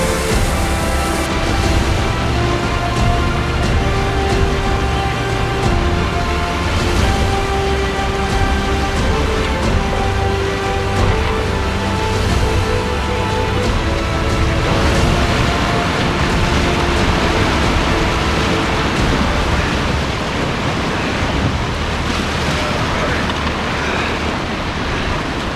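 A canoe is pushed into swirling river rapids, with loud, continuous rushing and churning water close by, a dense roar that shifts and grows rougher toward the end.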